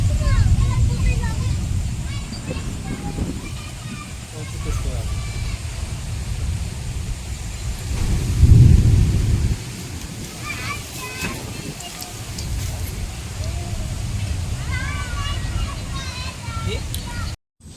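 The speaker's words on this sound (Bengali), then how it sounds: "না বলতে বলতে বৃষ্টি পড়ছে" Rain falling steadily during a thunderstorm, a constant hissing wash with a low rumble swelling briefly near the middle, while a voice talks faintly underneath for much of the time.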